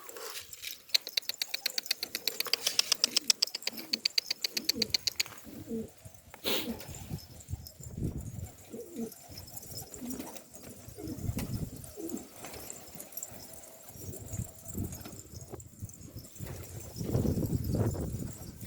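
Pigeons coo repeatedly in low, throaty bursts, preceded by a run of rapid clicking or tapping and some rustling nearby.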